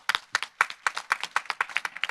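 An audience at a talk concert on the Korean Provisional Government applauds in a brisk, fairly sparse burst of claps, close and clear with no talking.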